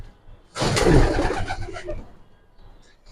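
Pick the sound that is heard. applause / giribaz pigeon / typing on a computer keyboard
giribaz pigeon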